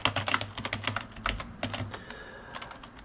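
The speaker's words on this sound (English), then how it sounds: "The feel of the keyboard is really nice." Close typing on a compact computer keyboard in a home office setup, a brisk irregular run of clicky keystrokes that slows toward the end, heard alone.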